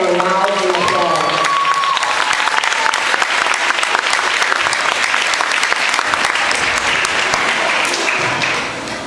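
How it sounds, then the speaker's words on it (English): An indoor audience applauds as a speaker is introduced, with a brief voice at the start giving way to sustained, loud clapping from a roomful of people that tapers slightly at the end. "Let's give her a rousing applause."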